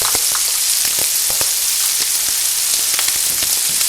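Green onion and chili pepper fry in a hot wok for kung pao shrimp, giving a steady dense sizzle with scattered crackling pops throughout, close and fairly loud, with no talking.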